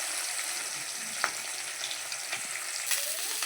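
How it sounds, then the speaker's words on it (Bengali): Rohu fish pieces fry in hot oil with a steady, close crackling sizzle, broken by a few clinks and scrapes as the pieces are turned. "এক পিঠ উল্টে দিয়েছি আর এক পিঠ ভাজা হচ্ছে।"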